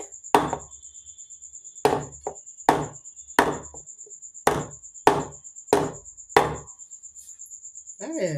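A cake tin of eggless wheat cake batter tapped repeatedly on a surface to release air bubbles, giving about eight sharp knocks at irregular intervals over a faint steady high-pitched whine.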